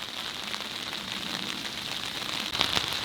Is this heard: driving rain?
yes